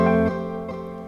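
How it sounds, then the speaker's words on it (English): Dry sample of electric guitars and piano playing a sustained chord, loud and close, with a second softer attack as the notes ring out and slowly fade. "This little sample here was made using these things here, which is a little bit of the electric guitars and a bit of the piano"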